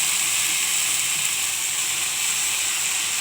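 Red jute leaves (pat shak) fry in a pan with a steady, loud, dense sizzle and hiss that carries on without a break, close up and alone.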